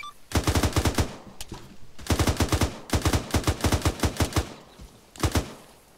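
Automatic rifle fire in the military sim game ArmA 3, loud close bursts of rapid shots in three long strings and a short final burst, with no talking.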